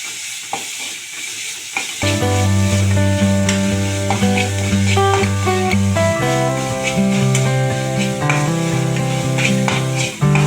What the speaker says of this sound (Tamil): இஞ்சி பூண்டு அரைச்சி வச்சுருக்கதை போட்டுக்கணும். பொன்னிறமாக வதங்கணும்.